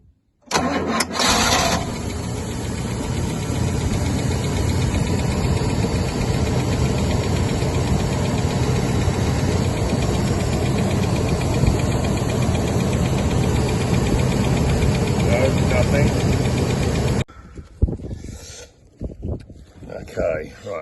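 A Rolls-Royce Silver Shadow engine cranks and catches, then runs at a steady, loud idle for about fifteen seconds before cutting off abruptly, followed by faint clicks and shuffling.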